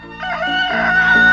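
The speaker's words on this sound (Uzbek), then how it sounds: "Xo'rozlar ham bugun ancha barvaqt turishdi." A rooster crows once in a cartoon village morning, a loud, close cock-a-doodle-doo with rising and falling harmonic tones, heard alone without talk.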